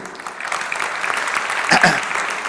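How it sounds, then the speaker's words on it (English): An audience applauds at a business event celebrating women in Kolkata. Dense, steady clapping from a crowd fills the whole stretch, with a voice faintly heard over it. "So wouldn't you want to give an applause for that?"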